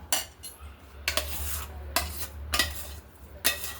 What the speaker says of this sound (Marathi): आता आपण हे एका थाटलीमध्ये ओतून घेऊ